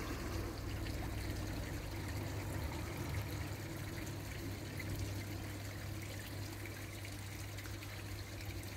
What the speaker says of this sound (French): Une petite cascade magnifique.